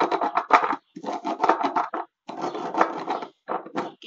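Rice being ground in a stone molcajete to cure it: rhythmic gritty scraping and rubbing strokes close by, in short bursts with brief pauses between them.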